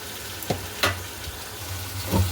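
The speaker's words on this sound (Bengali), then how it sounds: "এই যে কড়াই বসিয়ে দিলাম শাক ভাজার জন্য শাক ভাজার জন্য রসুন ফোড়ন দিয়ে পেঁয়াজটা ভাজা বসিয়ে দিলাম" Garlic and onion sizzle in oil in a wok before greens are added, a steady close frying hiss with a few louder spits and stirring clatters.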